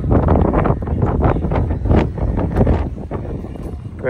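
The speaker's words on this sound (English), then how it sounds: "Quite windy today." Wind gusts buffet the microphone outdoors on a chilly street near a supermarket, a heavy low rumble that surges and drops throughout, with talk mixed in.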